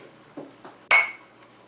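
Drinking glasses clink in a toast: a couple of faint taps followed by one bright, sharp clink that rings briefly and fades, close and alone.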